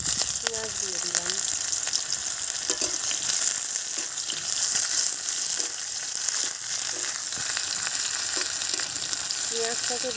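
Onion and cumin seeds frying in hot oil for a village-style fish curry, a steady loud sizzle throughout with occasional stirring scrapes and faint background voices.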